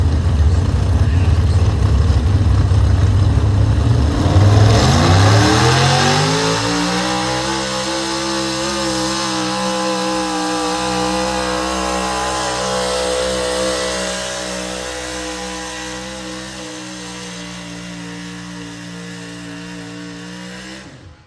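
A super stock pulling truck roars at full throttle during a pull, its engine climbing from a harsh rev into a sustained, loud, steady howl that holds for many seconds before tapering slightly near the end.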